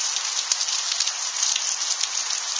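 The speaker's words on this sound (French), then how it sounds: "on n'aura pas eu de grêle, mais là, la pluie et les éclairs" Steady heavy rain pours down during a strong multicell thunderstorm in Tour-en-Sologne, a dense continuous hiss with no thunder or voices standing out.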